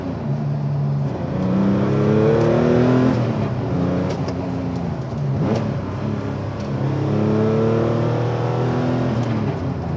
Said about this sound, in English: Now time to drive a little bit more